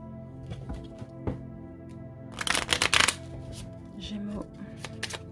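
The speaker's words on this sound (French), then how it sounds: "Alors, je mélange un petit peu." A deck of tarot cards being shuffled by hand, with soft riffling and a louder burst of card flutter in the middle, while someone talks nearby.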